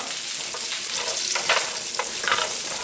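Carrots sizzle in oil on a hot, lightly smoking grill pan, a steady broadband hiss with a few brief louder crackles and stirring bursts as they are shaken into the grooves.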